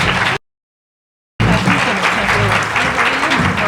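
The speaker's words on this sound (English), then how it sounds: "let's give them one more round of applause" Loud, dense audience applause for a panel at a policy forum, cut by a one-second dropout near the start, then continuing strongly and steadily.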